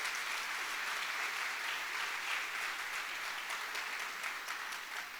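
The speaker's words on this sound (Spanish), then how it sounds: "Dele ese aplauso fuerte a Jesús." A church congregation claps steadily, a dense and even burst of applause from many hands with no speech over it, lasting about five seconds at a fairly quiet level.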